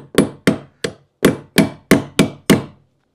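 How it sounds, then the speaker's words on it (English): Eight sharp metallic hammer strikes on a T40 bit while removing a Jaguar XK8 seat, evenly spaced and loud, each ringing briefly before the next blow. "I'll put the T40 on the top there. I'm using a hammer."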